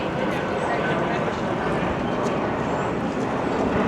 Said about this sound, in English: Aeroplane again.